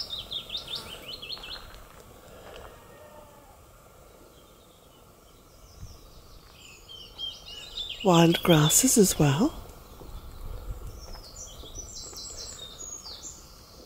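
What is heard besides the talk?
birds singing in a garden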